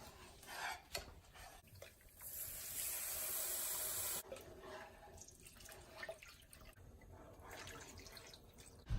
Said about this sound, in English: Now we are going to be adding 3 cups of beef broth to make our gravy